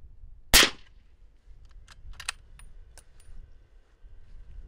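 A single sharp suppressed rifle shot through a Thunder Beast Gen 2 Ultra suppressor cracks loudly once, then a few faint metallic clicks and ticks follow in a quiet outdoor setting.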